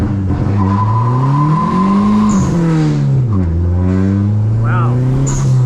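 Dodge SRT-4 doing a launch-control start with wheelspin: the engine holds a loud, close drone that rises, dips and climbs again as the tires spin, with a brief squeal-like tone early and no words spoken.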